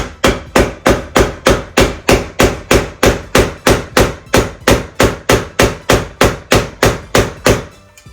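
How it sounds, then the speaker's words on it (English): Steady, rhythmic hammer blows forcing a part of a Dubia.com enclosure into place, about three per second, loud and close, continuing for several seconds before stopping. "We're going to gently hammer this down"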